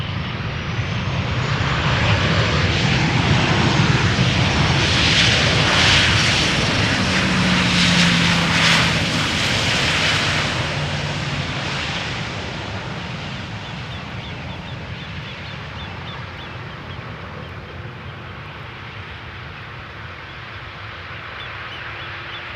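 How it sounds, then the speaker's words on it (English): A KLM Boeing 737-800 arriving at Amsterdam Schiphol airport roars loudly overhead, its jet engine noise swelling and then slowly fading into a steady distant rumble, with no talking. "Next airplane to arrive, 737-800 arriving from Paris."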